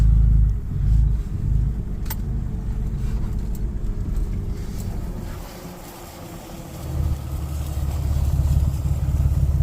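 Vehicle driving out onto pasture, low engine rumble that dips in the middle and swells again toward the end, close and continuous with no speech.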